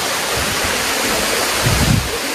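Seven Wells waterfall, a loud, dense roar of rushing water filling the whole short stretch, close and steady with some wind buffeting on the microphone.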